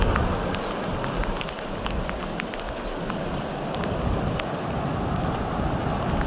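Ocean waves wash continuously onto a shore, a broad, steady rushing surge close by, with wind noise buffeting the microphone and no voices.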